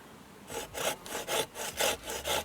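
Hand saw cutting through a thick, dry dead branch at an Adirondack lakeside campsite, steady back-and-forth strokes in a regular rhythm, close and clear with no talk.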